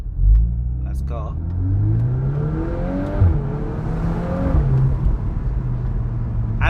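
A 2024 VW Golf 8 R accelerates hard from inside the cabin, its engine note rising through gears with a deep rumble and a brief shift dip, while a person talks over it.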